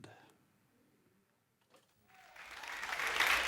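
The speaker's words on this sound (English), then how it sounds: "I like having a little applause to start off with" Audience applause at a live Ray Brown Trio jazz recording from 1988, a brief clap at the very start, then near silence, then a crowd's clapping swelling up and growing louder to the end.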